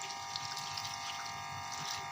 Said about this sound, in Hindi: ये मेरे पास 1 लीटर की बोतल है, ये पानी मैं इसमें यूज़ करूँगी।